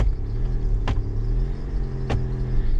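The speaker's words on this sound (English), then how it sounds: "I'm gonna start this vehicle up" A 2007-2011 Honda CR-V engine idles steadily after start-up, a low continuous rumble with two brief sharp clicks or taps over it, no talking.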